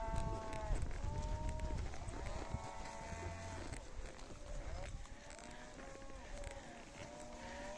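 Cattle moving along a path toward summer mountain pasture, with repeated lowing moos over a steady shuffle of hooves and ambient outdoor noise, fairly close; a faint voice is present at times.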